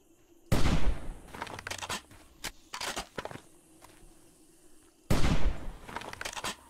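Sniper rifle shots ring out in 7 Days to Die, two sharp, loud cracks several seconds apart, each with a booming tail, separated by softer clattering and shuffling movement sounds.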